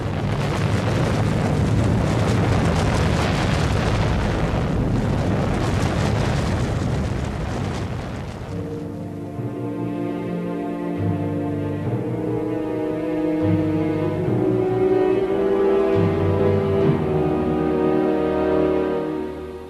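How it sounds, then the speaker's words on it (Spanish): An atomic bomb blast over Nagasaki roars as a dense, rumbling explosion for several seconds, then fades as orchestral music with sustained tones takes over. "Días más tarde, otra bomba explotó sobre Nagasaki."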